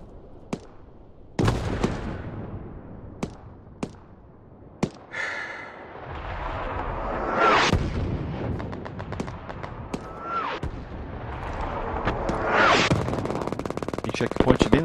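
A grenade blast and gunfire during urban combat in the Hell Let Loose video game, with loud sharp rifle shots, bursts of automatic fire and a booming explosion, while a player talks over the action.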